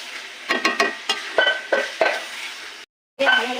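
Fish pieces go into a spiced curry base frying in a pan, with a string of sizzling bursts and stirring scrapes at close range before a brief gap and renewed frying.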